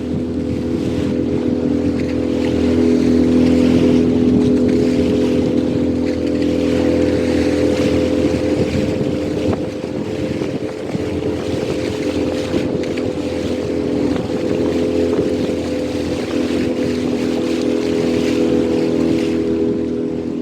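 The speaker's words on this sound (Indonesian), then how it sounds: "wisata menggunakan perahu tradisional atau jukung di tengah laut seperti ini" A traditional jukung boat engine drones steadily and loudly at sea off Lovina, Bali, with wind buffeting the microphone over the continuous motor hum.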